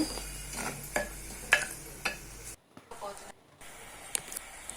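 Onions fry in a pan with ginger-garlic paste and masala powders for a silver fish curry. A soft sizzle sits under a series of sharp spoon-stirring knocks, and the sound drops out briefly near the end.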